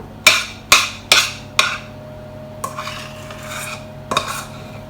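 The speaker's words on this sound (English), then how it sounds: "You're going to spoon your mixture on." A metal spoon knocks against a dish while scooping and spreading mashed potato onto shepherd's pie, giving about four sharp clinks in quick succession followed by softer scraping taps, close up, with no talking.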